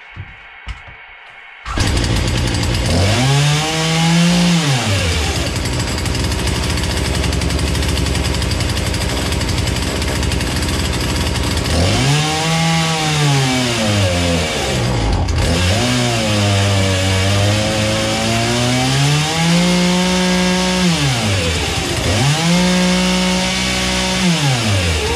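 A small two-stroke engine, chainsaw-like and clamped tight in a vise, runs loud and steady after a high-speed mixture adjustment, with its revs repeatedly swelling and dropping back over a continuous roar.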